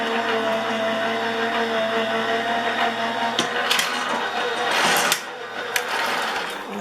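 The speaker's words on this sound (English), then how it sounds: "Clear plate, embossing folder, another clear plate, and I'm going to run it through." A card sandwiched between clear plates and an embossing folder is run through a die-cutting and embossing machine, making a continuous grinding, humming mechanical whir with a few sharper knocks toward the end.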